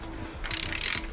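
A ratchet tightening a bolt during servicing on an e-bike, a quick burst of rapid metallic clicks lasting about half a second, close and fairly loud in an otherwise quiet workspace.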